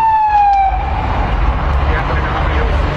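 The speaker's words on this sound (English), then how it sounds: "as you hear the sirens behind me" Loud siren wailing close by in East Los Angeles, its tone sliding downward, over heavy low rumbling traffic noise.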